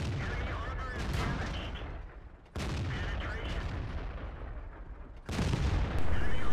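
Cannon fire from an AMX 13 90 light tank in a tank battle video game on a desert map, with loud booming shots marking abrupt sound changes over constant engine rumble and battle noise.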